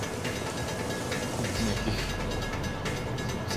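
A train stands at the final station of the line, a steady low rumble with faint hissing and clatter, no talk over it.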